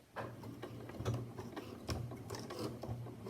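Sewing machine back stitching a coin purse, giving a steady close mechanical whir with rapid needle ticking that runs for a few seconds without pause, faint and unbroken by talk.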